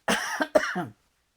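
A person coughs a few times in quick succession, close and dry, followed by silence.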